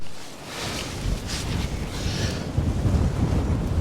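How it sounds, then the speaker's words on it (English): Steady rushing high wind buffets the microphone throughout while paragliding, with low rumbling gusts that swell and ease, no voices present. "it's quite windy"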